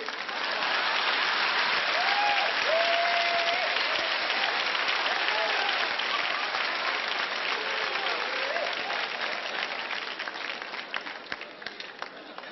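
Steady audience applause fills a crowded Southern California camp meeting hall in 1984, dense continuous clapping that holds at full strength throughout, with a voice faintly speaking over it.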